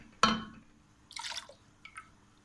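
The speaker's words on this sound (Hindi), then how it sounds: "डाल देते हैं इमली का पेस्ट।" Tamarind paste dropped into Hyderabadi khatti daal with cooked-down tomatoes: a soft wet plop, then a brief squishy splatter and a faint final drip, quiet and close.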